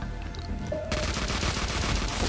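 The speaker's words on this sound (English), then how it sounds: "It's one of my assault rifles." Sustained automatic assault rifle fire in Max Payne 2 bursts in abruptly partway through and continues loud and dense to the end, after a quieter lead-in with faint tones.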